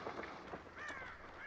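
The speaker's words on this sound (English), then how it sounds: "There's crows there." Crows caw in the video game Hunt: Showdown, giving a few faint, scratchy calls over a soft background hiss.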